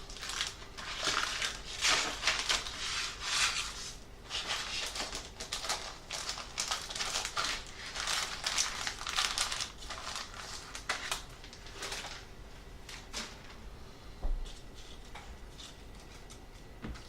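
A plastic bag of HO scale model kit parts for a clapboard building is opened and rummaged, giving close, crinkly rustling in irregular bursts that thin out toward the end.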